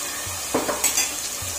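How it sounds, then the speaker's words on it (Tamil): Ginger garlic paste hits a hot pan for Madurai mutton chukka, giving a steady low sizzle with a couple of brief stirring scrapes near the middle, no voices. "இது சூடாகிட்டு இருக்கும் போதே இதில் வந்து நான் இஞ்சி பூண்டு பேஸ்ட் போட்டுக்கிறேன்."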